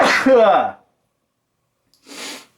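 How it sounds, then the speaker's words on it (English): A single sneeze bursts out close by, a sharp voiced blast with a breathy tail, followed after a pause by a brief noisy sniff or exhale. "Oh, I love sneezing."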